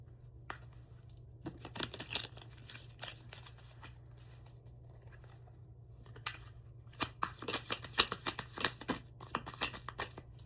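Quiet riffling and flicking of cards in repeated bursts, growing busier toward the end, with soft low hum underneath.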